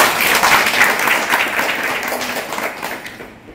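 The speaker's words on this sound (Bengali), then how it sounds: "ওর জন্য একটা সকলে জোরে হাততালি দাও" A group of people applauds a child together, a dense sustained wash of clapping at steady loudness that slowly thins and fades toward the end.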